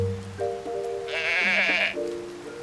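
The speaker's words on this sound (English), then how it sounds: "Oh, that was a sheep, not a cow." A Highland sheep in Tears of the Kingdom lets out one long, wavering bleat, clear and close, over soft game music, with no voices.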